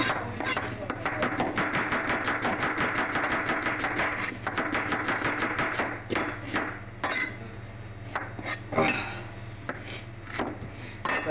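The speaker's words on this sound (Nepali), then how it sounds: "म पनि यहाँ रुँदै प्याज काट्दैछु।" Rapid, steady knife chops on onion against a cutting board, a dense run of sharp close taps for about six seconds, then slower scattered strokes, with faint voices in the background.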